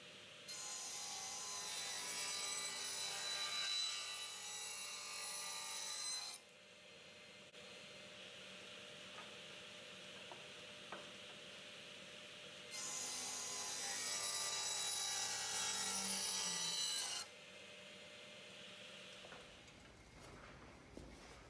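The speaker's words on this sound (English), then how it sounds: "let's cut this defect out and see what we get" A handsaw cuts a defect out of a wooden board meant for a bat box roof, heard in two close, loud bursts of steady back-and-forth strokes separated by a quieter pause.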